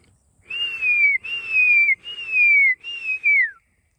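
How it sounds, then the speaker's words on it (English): A person whistles four times to call horses, each a long rising-then-falling note with brief gaps between, loud and close with no other voices. "And now I will whistle for the horses."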